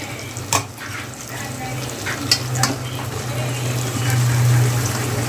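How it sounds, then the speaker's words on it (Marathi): Fenugreek leaves stirred into a frying tomato masala, a steady close sizzle with a few clattering spoon-against-pan knocks and a low hum underneath. "चला मग मेथी घालूया हलवून घेऊया"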